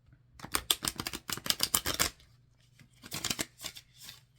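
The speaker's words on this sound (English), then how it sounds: "typically it's a very good riffle shuffle" A riffle shuffle of playing cards, heard up close as two dense bursts of rapid fluttering clicks with a short gap between them and no talking.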